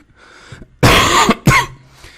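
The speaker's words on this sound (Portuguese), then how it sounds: "Desculpa a tosse aí, tá?" Two sharp coughs from a man with a cold, the first a long harsh burst and the second shorter, close and loud after a brief quiet moment.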